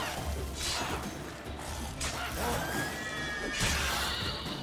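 A horse in the video game Witcher 3 lets out a couple of shrill whinnies amid game combat noise, with a fainter swooshing and clattering underneath.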